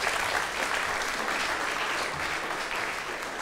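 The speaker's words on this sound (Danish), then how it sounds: "Vi klapper lige igen" Audience clapping steadily throughout at a talk about the story behind the music, a dense, even wash of applause at moderate distance.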